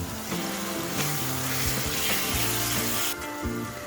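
Spice masala with sugar frying in a pan for soybean pulao, a loud continuous sizzle with crackling, close up and without talk.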